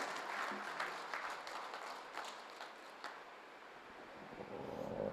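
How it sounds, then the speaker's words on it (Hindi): An audience at a Hindi poetry recital (kavi sammelan) marking a 67th birthday breaks into strong, sustained applause that welcomes a revered poet, a dense, continuous wash of many hands clapping that fades slightly toward the end. "एक बार जोरदार तालियों से श्रद्धेय दादा का स्वागत करें।"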